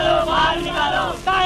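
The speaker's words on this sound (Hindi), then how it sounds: "बाहर भीड़ हो गई है, लोग नारे लगा रहे हैं।" A large crowd gathered outside shouts slogans in a Hindi feature film scene, many raised voices chanting together in loud, sustained waves with a short break before the next surge.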